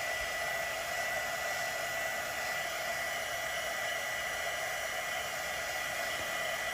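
A heat gun blows over wet fluid art paint in a steady, uninterrupted airy whoosh and whine, close and constant, with no talking.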